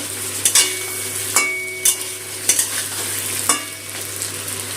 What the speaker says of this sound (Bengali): সর্ষে পোস্তটা দিয়ে এই যে একটু ভাজা ভাজা করে নিচ্ছি।